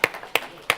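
Claps at a tech talk, three sharp isolated hand claps spaced evenly, close and distinct, with no crowd swell behind them.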